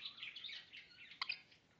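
A Goldie's lorikeet sings in a series of quick, high, shrill chirps and squeaky notes. The sound is close but quiet, with a brief burst of louder calls partway through.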